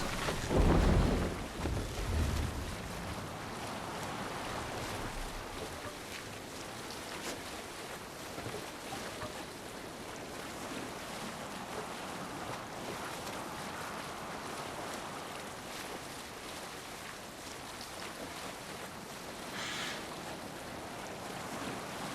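A Viking longship sailing the sea in Assassin's Creed Valhalla, with steady washing waves and wind noise throughout, a brief louder splash at the start, fairly faint and with no talking.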